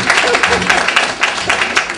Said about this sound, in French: Je voudrais qu'on applaudisse pour elle.